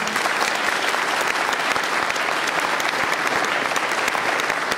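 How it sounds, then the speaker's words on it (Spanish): A conference audience at an opening ceremony in Montevideo claps loudly and steadily, a dense continuous wash of many hands filling the whole stretch. "Les pido un aplauso"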